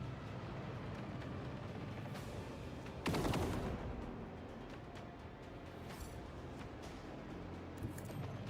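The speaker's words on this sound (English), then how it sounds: "We have the interceptors come down here and fire upon them." Interceptors firing guns in the video game Grim Dawn, heard as a rapid, rattling burst of gunfire that rises sharply for about a second over a steady background hum.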